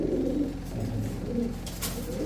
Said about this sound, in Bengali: অ্যালুমিনিয়াম সিলভার একটা কবুতর দর্শক একদম ছয় হাজার টাকা মাত্র